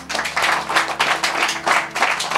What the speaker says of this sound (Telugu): నమ్మిన వారందరూ కూడా గట్టిగా చప్పట్లు కొడదాం